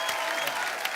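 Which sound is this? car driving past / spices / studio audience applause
studio audience applause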